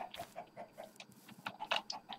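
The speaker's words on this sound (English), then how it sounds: "Chicken." A chicken in the Minecraft video game clucks repeatedly in short, evenly spaced bursts, quiet and close, with no voices over it.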